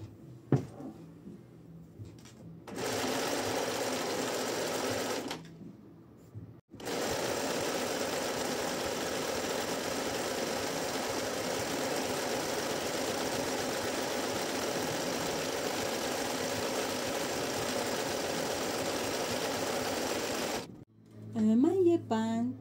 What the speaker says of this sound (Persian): یک دایره به قطر دهانه باکسمون میدوزیم.